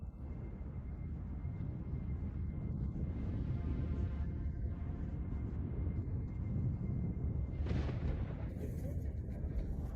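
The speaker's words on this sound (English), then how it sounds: "lightning forms in an ash cloud during a volcanic eruption" A continuous low roar and rumble from a volcanic eruption, with scattered cracks and booms of lightning in the ash cloud, steady and distant throughout.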